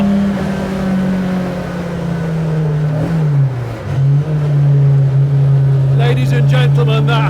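A Boreham Works AMR 68 continuation Mk1 Twin Cam Escort runs on a track in Cumbria, its engine holding a loud, steady drone from inside the car, dipping briefly before pulling again, with talk near the end.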